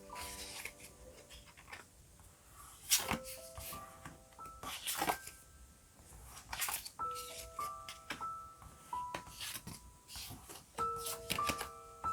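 Tarot cards are shuffled and drawn by hand, three at a time, producing several sharp papery swishes and snaps over soft, tinkling background music.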